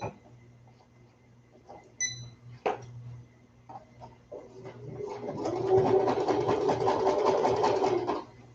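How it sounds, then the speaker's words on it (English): A sewing machine stitches baby ruffle bloomers on its free arm. Faint handling clicks and soft pigeon coos come first, then the machine runs in one sustained, fairly loud burst for about three seconds before stopping. "this is where your free arm on your sewing machine comes in really handy"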